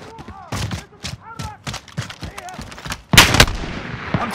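Video game gunfire from Call of Duty: Modern Warfare: sharp shot bursts with a loud, dense volley near the end, mixed with shouted voices and radio chatter throughout.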